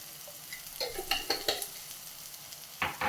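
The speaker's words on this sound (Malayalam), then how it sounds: "ഇനി ഇതെല്ലാം കൂടെ ഒന്ന് ഇളക്കി മിക്സ് ചെയ്യാം." Egg macaroni masala with pepper and garam masala is stirred in a frying pan. A spoon scrapes and clicks against the pan in uneven strokes over a soft, steady sizzle, close up and with no talking.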